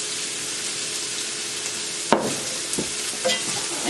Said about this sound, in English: I'm going to go in now with my sesame oil